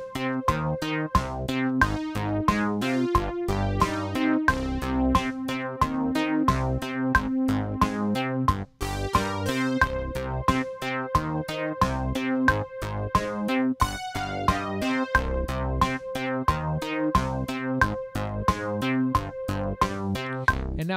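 Solo piano playing the chord progression of a song at a slowed tempo, with steady repeated chords and a moving bass line for about twenty seconds and no talking.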